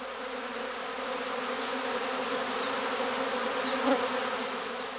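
A cast swarm of honeybees buzzes around a group of pine trees at a heather skep apiary, forming a dense, steady hum of many wings with a brief louder pass near the end.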